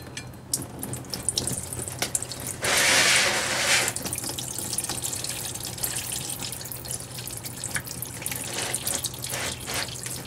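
Transmission fluid drains from a 2013 Dodge Ram 1500 4x4 in a steady liquid stream, with a brief louder splashing surge early on before it settles into a continuous trickle under a low hum.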